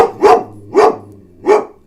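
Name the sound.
dog barking in the background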